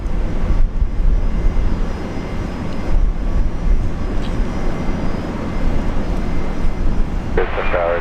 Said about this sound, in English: And I hear a Fokker.